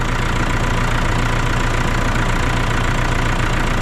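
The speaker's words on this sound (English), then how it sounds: "just testing with the tractor started" Massey Ferguson 5460 tractor engine idling loud and close, a dense, steady diesel rumble with no pauses or voices over it.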